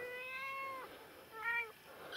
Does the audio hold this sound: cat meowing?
yes